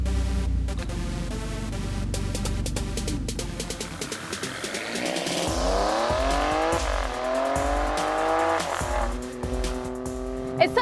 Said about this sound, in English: today is such a day because I'm driving the Alfa Romeo Stelvio